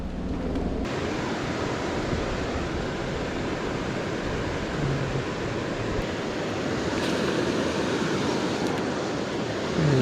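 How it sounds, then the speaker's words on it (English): Rushing water where two big rivers meet near Portland, a broad, continuous wash of noise with wind buffeting the microphone, loud and steady with no voices. "We're coming to the confluence of the two big rivers in the area."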